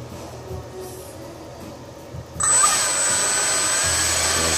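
A Freewing 70-90mm electric ducted fan unit spins up with its balancing weight fitted, jumping suddenly into a steady, loud, high-pitched whine with a constant tone that holds evenly until the end, with no speech.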